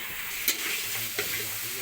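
Potato pieces frying with spices in a pan for a Bengali vegetable curry, a steady close sizzle and crackle with a couple of brief scraping stirs and no talking.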